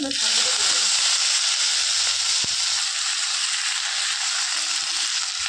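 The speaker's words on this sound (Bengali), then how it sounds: "দিয়ে রসুনটা হালকা ভেজে নেবো" Crushed garlic fries in hot oil in a pan, giving a steady, bright sizzle and hiss with a few soft clicks near the start, heard close up and alone.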